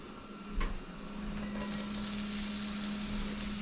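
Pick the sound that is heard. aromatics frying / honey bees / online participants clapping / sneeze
aromatics frying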